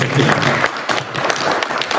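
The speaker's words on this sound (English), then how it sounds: "let's give Ed a quick round of applause" Brief audience applause at a public commission event, a dense, loud wash of clapping from a gathered crowd that fills the short moment, with some speech-like sound mixed in.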